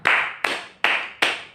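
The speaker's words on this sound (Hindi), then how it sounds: "एक बार उनके लिए जोरदार तालियां।" Audience applause at a business guest class event, four distinct bursts of clapping, each starting sharply and fading, close and fairly loud with no talk.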